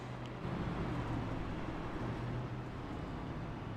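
Stock cars in a racing video game, a Cup Series race at Kansas Speedway, coasting with their engines cut to save fuel, give a steady, faint, low rumble with a slight hum that holds evenly throughout.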